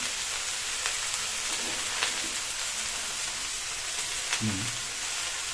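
Finely shredded cabbage fries in a pan for a festive-style cabbage ghonto, a faint, even sizzle with scattered crackles and a couple of short stirring scrapes.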